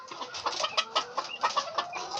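A hen clucking to call turkey poults, a quick series of close, short, fairly soft clucks in an uneven rhythm.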